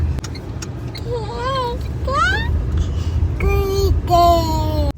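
Busy city road traffic on a street narrowed by metro construction makes a steady low rumble of engines throughout, heard from nearby beneath adults and someone talking.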